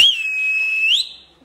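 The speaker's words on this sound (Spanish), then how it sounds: "Pégale un chifleón bueno ahí a la gente." A loud, piercing whistle is blown to call a crowd of people, one sustained tone held for about a second that rises at the end and then cuts off, close and alone.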